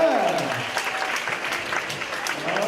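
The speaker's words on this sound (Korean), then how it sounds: "감사의 박수를 부탁드립니다" An audience at a mentoring talk concert applauds in thanks, a broad wash of clapping that stays fairly even throughout, with some voices mixed in underneath.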